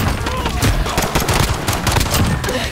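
Dense video game gunfire, continuous rattling bursts and shots that fill the whole stretch loudly and close, with a voice talking over the shooting.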